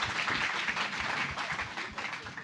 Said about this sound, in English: Round of applause for Tasha.